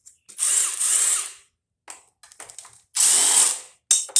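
A power tool with a socket whirs in short bursts while backing a nut out of a dehumidifier, with close, loud spins separated by pauses and small clicks of handling in between.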